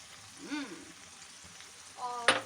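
Four eggs frying in a pan for a quick breakfast, a soft steady sizzle beneath brief bits of voice and a sharp utensil clink near the end.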